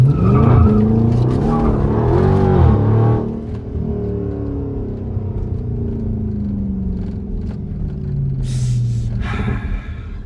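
A widebody Scat Pack car sliding around a street corner, tires squealing loudly over a roaring engine at first, then a long trailing skid that fades to a steady road and engine rumble.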